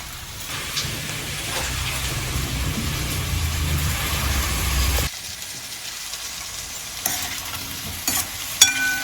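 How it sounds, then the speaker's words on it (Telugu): Taro roots sizzle and fry in a pan with steady stirring for Telugu taro pulusu, loud and continuous for about five seconds, then a quieter sizzle with occasional utensil clinks. "ఇప్పుడు మనం చేమదుంపలు వేసుకోవాలి."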